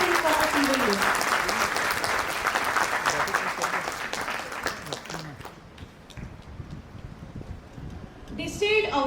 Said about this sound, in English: I want a huge round of applause for our parents who have sacrificed everything for us single year.